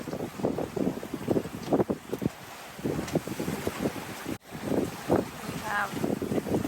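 Strong wind of around 20 knots buffets a sailboat offshore under jib, roaring and gusting across the microphone with water noise beneath, while someone talks over it throughout.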